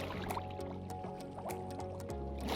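Flowing water in a Minecraft mob farm, a continuous close bubbling and trickling wash with small splashy pops layered over a low tonal hum.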